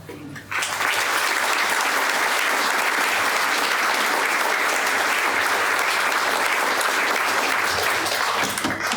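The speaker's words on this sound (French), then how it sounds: "que nous saluons par vos applaudissements" Audience applause at a Rotary governor handover ceremony in 2022, starting abruptly after a brief quiet moment and then holding as dense, steady, loud clapping from a large indoor crowd for the rest of the clip.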